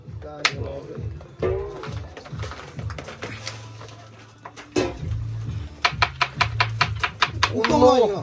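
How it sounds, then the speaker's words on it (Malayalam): Onions chopped on a board during a camp cooking session, with a steady run of sharp knife strikes, then a rapid burst of fast chops, close and clear while people talk in the background. "മലമോന്റെ ഉള്ളി വെട്ടുണ്ട്."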